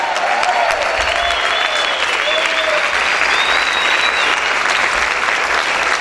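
Loud, sustained congregational applause in a church, a thick wall of clapping with some raised voices and whoops rising above it, steady for the whole stretch.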